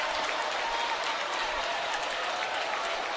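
A congregation claps hands together during a live worship service, a dense, steady wash of applause that stays loud and even throughout.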